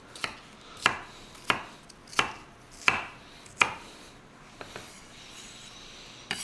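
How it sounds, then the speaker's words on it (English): An onion chopped with a knife on a bamboo cutting board: five crisp, evenly spaced knife strikes close up, then a few softer taps trailing off, no talking. "we're going to chop up an onion here just to kind of show you what it actually looks like"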